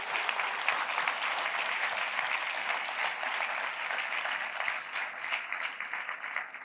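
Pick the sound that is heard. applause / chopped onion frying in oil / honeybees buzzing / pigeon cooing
applause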